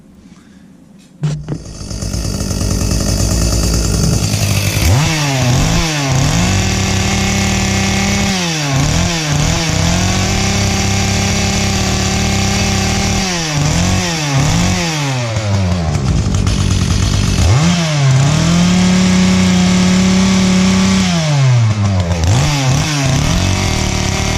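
An Echo CS-310 chainsaw, just repaired after oiler worm gear and overheat damage, starts with a pull and then idles loudly, revving up and down repeatedly in close, sustained bursts.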